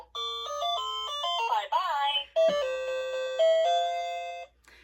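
A children's electronic toy plays the number song as a bright, beeping synthesized melody of steady electronic tones, close and clear, with a brief garbled voice-like warble partway through and a short click before it stops.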